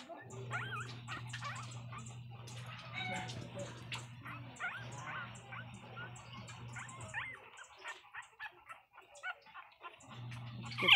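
Newborn, milky-coloured puppies whimper and yip in a litter of five, with thin high cries repeating close by over a steady low hum, briefly pausing before resuming.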